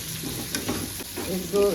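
Ginger-garlic paste sizzles and fries in a pan while being stirred for a spicy Marathi matki bhaji sprout curry. The frying is steady and close, with faint scraping of the stirring and no talk.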